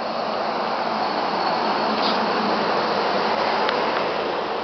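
SEPTA regional rail train at Exton station, a steady, loud broadband rumble and rush of a train rolling past close by, with faint metallic squeals over the continuous roar.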